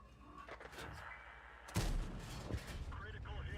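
A tank cannon firing a high-explosive round in a video game lets out one heavy boom about midway, with a rumbling tail, and someone talks before and after the shot.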